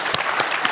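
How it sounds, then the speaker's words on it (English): A room full of people applauds at an annual general meeting, a steady dense patter of clapping heard close and loud throughout the short burst. "Applause."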